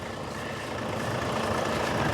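A Volvo truck of MLC Transport Limited idles nearby at a festival site, a steady low diesel rumble with broadband mechanical noise holding at an even level throughout, no talking.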